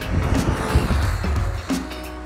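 A fast RC car fitted with an active DRS wing drives past, a dense, steady electric whine and road rumble close by with slight pitch shifts as it moves, continuous throughout.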